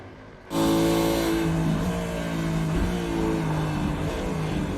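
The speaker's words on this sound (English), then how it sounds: "Beautiful roar from the Ford Mustang." A Ford Mustang Supercar in the iRacing sim at Oran Park Raceway kicks in with a loud, sustained engine roar that holds steady with slight pitch shifts as it drives on.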